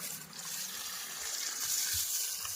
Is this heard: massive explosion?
no